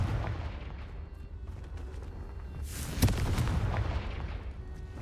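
Fire-spell blasts in the video game Hogwarts Legacy, a sustained rumbling barrage with one sharp explosive crack in the middle, loud and dense against continuous game background noise.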